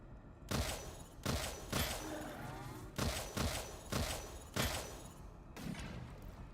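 Enemies in the VR game Of Lies and Rain fire very fast rounds, sharp loud bursts of gunfire coming in about eight quick volleys spaced irregularly over a few seconds, with a low rumble between them.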